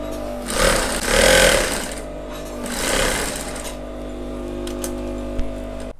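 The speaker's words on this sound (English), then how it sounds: "you don't need to sew both sides, just sew one of the edges. Okay, so you sew it until you get to the end." Sewing machine stitching along one edge of an Ankara fabric strip, a steady mechanical whir with two louder bursts of running before it settles into a continuous drone.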